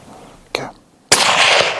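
A single sharp rifle shot at an impala on an African hunt, preceded by a brief softer click or whisper, the crack loud and close with a broad noisy tail.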